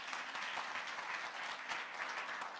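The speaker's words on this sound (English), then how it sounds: "I think that the round of applause for the Director General wasn't sufficient." Round of applause for a Director General at the launch of the Indigenous Knowledge Registration System, with steady, dense clapping from an audience heard at a moderate distance throughout.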